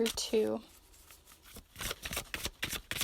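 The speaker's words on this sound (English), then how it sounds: "I feel like I need to shuffle it the other way" Tarot cards are shuffled in quick papery riffles and flicks, heard close up after a brief voice at the start.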